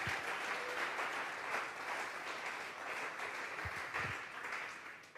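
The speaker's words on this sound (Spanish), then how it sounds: "Vamos a regalarle ofrenda de palmas al Dios de la gloria." A church congregation gives sustained applause throughout, a dense crackle of many hands clapping at moderate volume with a few sharper claps nearby.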